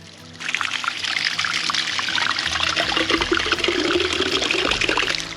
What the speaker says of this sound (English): We're filling up our water bottles with this water running off the rock here